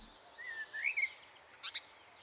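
Birdsong drifts through an alpine valley in the game Transport Fever 2: a thin rising whistle, then two quick chirps, faint over a quiet background hiss.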